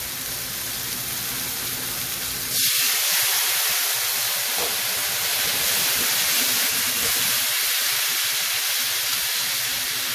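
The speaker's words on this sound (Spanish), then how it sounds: "le vamos a echar el vino blanco." White wine hits a hot pan holding browned meat, setting off a sudden loud hissing rush of steam and sizzle that stays strong and bubbling to the end, with no talk.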